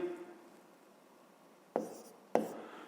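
Pen scratching on paper while a 5th-grade math problem is written out by hand: a faint steady scrape, then two sharper strokes near the end, with no voice.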